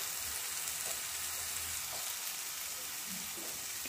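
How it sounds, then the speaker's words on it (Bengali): Spice masala for palak chicken fries in oil in a steady, even sizzle, with faint stirring in the background and no talking. "মশলা ঘা থেকে তেল ছাড়ছে,"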